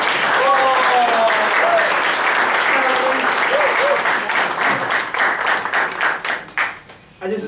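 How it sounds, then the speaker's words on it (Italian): Sustained audience applause at a drag show at Spazio Ligera in Milan, dense clapping that starts loud and full, then thins into scattered claps, with a voice calling out over it early on. "Applaudite Amelie per il suo numero!"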